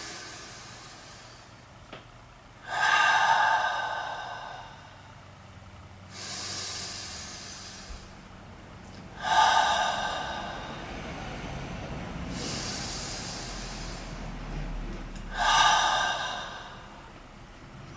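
A group inhales and exhales deeply together three times, each long airy breath swelling and fading in a steady rhythm with quiet pauses between, close and fairly soft.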